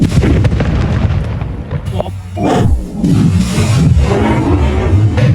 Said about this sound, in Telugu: కుండ కింద బాంబు పెట్టి